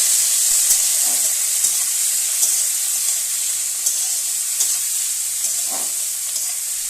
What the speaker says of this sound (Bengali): এরপর টমেটোটাও দিয়ে দেবো, দিয়ে একটু নাড়াচাড়া করে নেবো